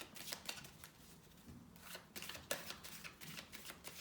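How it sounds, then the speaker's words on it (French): Tarot cards being shuffled by hand in a quiet room, a run of soft riffling and sliding bursts with brief pauses between them, close and fairly faint, with no talking over it. "Et là, je fais simplement un mélange par rapport à l'énergie générale"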